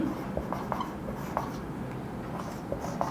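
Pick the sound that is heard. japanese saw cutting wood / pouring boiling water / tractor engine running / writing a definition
writing a definition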